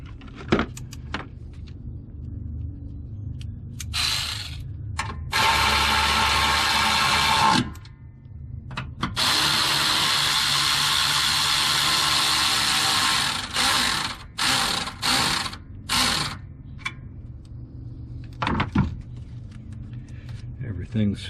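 A ratchet tightens the battery terminal nut on a 2011 Toyota RAV4, with long runs of rapid metallic clicking broken by short pauses, close up, and someone speaking between stretches.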